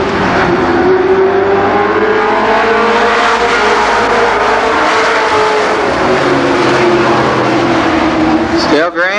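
Race cars competing at Columbus Motor Speedway during a 1990 Labor Day race, a loud, continuous engine roar with a rising and falling pitch as cars pass, under an announcer talking.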